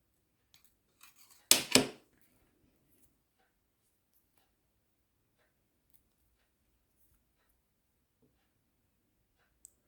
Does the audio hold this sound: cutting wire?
yes